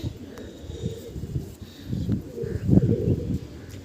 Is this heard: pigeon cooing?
yes